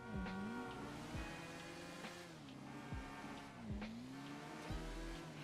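Fast car in GTA Online, engine revving high and shifting through gears with repeated rises and drops in pitch, loud and continuous with tire noise, no talking.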